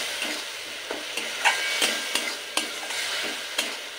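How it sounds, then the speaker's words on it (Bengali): Masala for a bitter gourd dish being stir-fried in a pan with a splash of water, soft sizzling punctuated by repeated spatula scrapes roughly every half second to a second, close and without talk. "একটু বাটি ধোয়া জল দিয়ে 2 মিনিট নেড়ে চেড়ে মশলাটা কষে নেব।"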